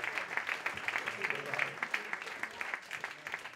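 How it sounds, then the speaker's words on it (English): Magic show audience gives a round of applause, dense clapping rising and falling at moderate distance, fairly quiet overall with a voice faintly mixed in. "Give her a big round of applause."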